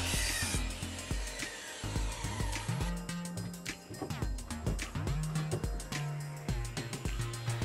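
Workshop tool noise with repeated short miter saw cuts through wooden boards and clattering of wood, busy and close, with brief pauses between bursts.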